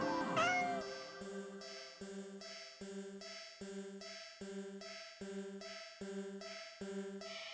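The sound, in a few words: cat meowing in a video game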